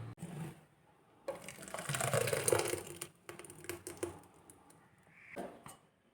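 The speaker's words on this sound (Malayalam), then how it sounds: "മിക്സിയുടെ ജാറിലുള്ള ഈ അരപ്പൊക്കെ കുറച്ച് വെള്ളം കൊണ്ട് ഒന്ന് കഴുകിയെടുത്തിട്ട് അത് വേറൊരു പാത്രത്തിലേക്ക് പകർത്തി വയ്ക്കാം" Water swished through a mixer jar to rinse out ground coconut paste for a sardine curry, a short gurgling, splashing rush in the middle with lighter clinks and trickles around it.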